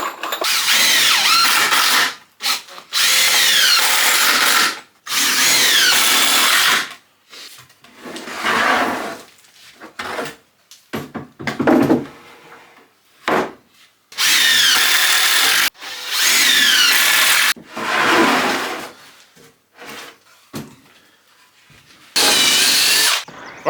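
A power drill bores pilot holes into 2x2 timber for a rat-proof three-bay compost bin, with repeated bursts of loud whining drilling separated by short pauses and shorter clatters, close up and without speech.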